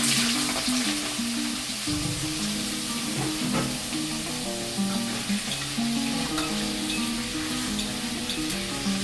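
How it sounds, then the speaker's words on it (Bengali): Small cut potato pieces frying in hot oil, a dense continuous sizzle with occasional stirring clatter, close and loud throughout, with no voices. "ছোট ছোট আলু কেটে রেখেছিলাম, সেই আলুগুলো আগে ভেজে নেব আমি"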